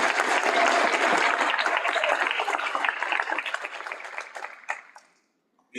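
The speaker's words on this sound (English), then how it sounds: "Let's give them another round of applause." Steady applause from a graduation ceremony audience fills an indoor hall, holding strong before thinning into scattered claps and falling silent near the end.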